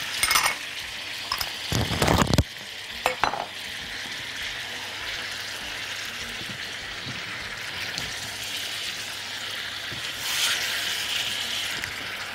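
Tomatoes, garlic, rosemary and thyme are stirred in a pan, with a few sharp clatters of the utensil early on. A steady sizzling hiss runs underneath throughout.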